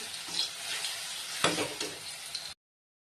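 Tomatoes fry in a pan with a close, even sizzle and a brief stir partway through, then the sound cuts off abruptly.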